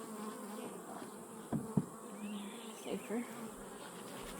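Honeybees from a backyard hive buzzing around frames filling with nectar and fresh comb, a faint steady drone with a few close thumps and handling knocks, a brief quiet spoken word.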